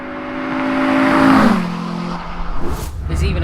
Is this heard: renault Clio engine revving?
yes